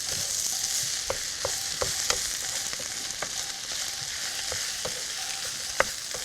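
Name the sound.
stir-frying bamboo shoots with shiitake mushrooms and water parsley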